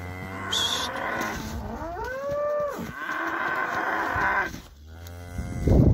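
A hornless cow at a Kazakh livestock sale moos loudly and close by with a long, drawn-out call, and other cattle can be heard around it in the pen.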